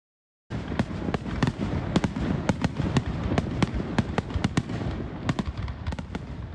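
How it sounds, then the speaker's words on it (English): A fireworks finale in Iowa City bursts in a rapid, continuous barrage of sharp cracks and booms, loud and dense after a moment of silence, with rolling rumble between the reports. "The finale of the big fireworks celebration last night in Iowa City"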